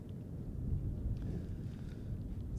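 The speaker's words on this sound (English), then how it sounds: "now the weather gets a bit ghastly out here. Cold and windy." Cold crosswind at Zurich Airport buffeting the microphone, a continuous low rumbling roar with gusty swells, steady and fairly loud with no voices.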